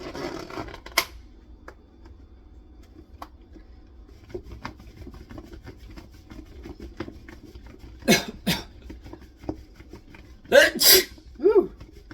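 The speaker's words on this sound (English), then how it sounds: "Made me cough and sneeze." Sharp bursts of coughing and a couple of explosive sneezes, set off by a pre-seasoned breading mix, break through a quiet room, clustered near the end with short gaps between.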